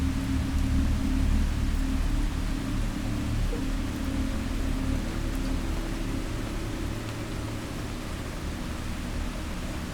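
Steady rain falls at night in an even, unbroken hiss with a soft low rumble beneath, unchanging throughout with no voices.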